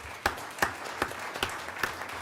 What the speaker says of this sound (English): they owe a huge round of applause